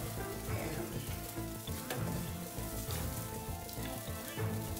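Rice frying in a pan over low heat gives a steady, close sizzle that runs unbroken throughout, with no talking over it.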